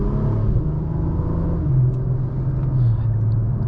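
A 2023 Acura TLX Type S turbo engine pulls under acceleration from inside the cabin, a steady close rumble with rising tone as revs climb, heard alone without talk.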